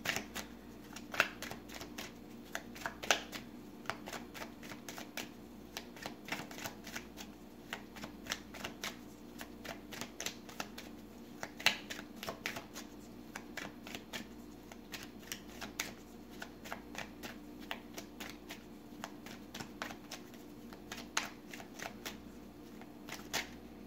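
Tarot cards are shuffled steadily during a reading, giving a long run of soft, papery riffles and flicks in a quiet room, with the brief snaps repeating throughout and no talking.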